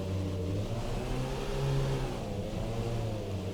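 Formula RSS Supreme race car engine in a sim racing game, revved with the clutch in: a close, buzzing mid-pitched drone that rises and falls slightly over a few seconds, with no talk.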